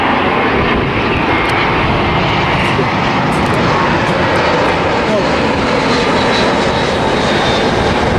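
Loud, sustained roar of a JetBlue Airbus A320 airliner close by at an airport, a dense unbroken engine rumble filling the whole stretch with a faint high whine on top.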